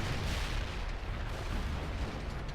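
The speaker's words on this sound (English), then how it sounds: "This is some real precision artillery." Artillery strikes in the video game World in Conflict, a dense continuous rumble of overlapping booms and blasts, loud and muddy throughout with no clear gaps.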